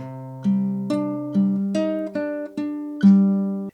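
Guitar plays a slow arpeggio, about eight clear plucked notes in an even rhythm, each ringing into the next, close and alone.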